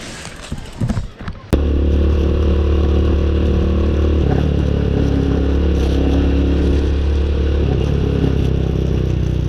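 A motorcycle running steadily along a road, its engine a loud continuous drone with harmonic hum after a brief clattering start, the rider holding a constant pace.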